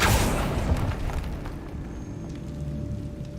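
A Confringo explosive spell in Hogwarts Legacy goes off with a loud, low boom at the start, then a rumbling decay that fades into quieter ambient game sound, with no one talking.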